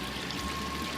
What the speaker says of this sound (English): Pump's kicked on.